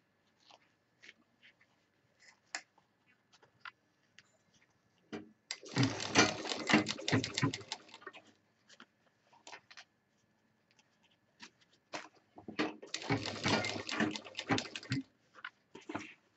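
A sewing machine stitches a handbag in two close bursts of rapid mechanical chatter, each lasting a couple of seconds, separated by sparse clicks and fabric handling.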